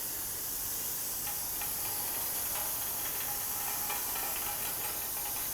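A steady, close hiss of a water spray rinsing down the rear brake hub of a 2001-07 Toyota Sequoia during a brake job, continuous for several seconds with no talk.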